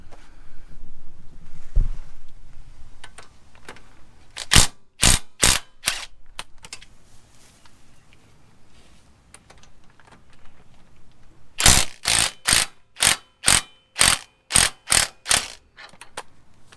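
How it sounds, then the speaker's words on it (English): Bolts on a Toyota Tacoma's front suspension are worked loose with a wrench during a Fabtech 6-inch lift install. Two close, loud runs of sharp, evenly spaced metallic clicks are separated by quieter shuffling. "So let me grab that open end. I think it's a 14 or 17. Just crack those bolts, and that'll help loosen everything."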